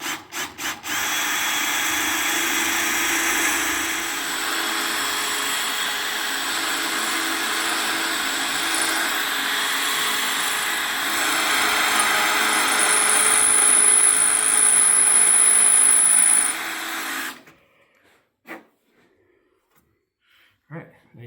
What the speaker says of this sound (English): I'm going to go ahead and can finish drilling this one rivet out